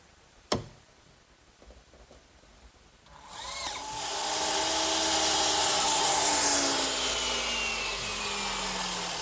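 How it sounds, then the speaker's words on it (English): A miter box saw cuts through tongue-and-groove cedar boards: a sharp knock, a few faint ticks, then a steady loud whirring cut that holds and slowly fades off. "I'm using my miter box to cut all my pieces of cedar."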